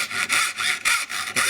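Hand saw cutting pine with sticky pitch, brisk rhythmic rasping strokes about five in quick succession, close and loud with no talk.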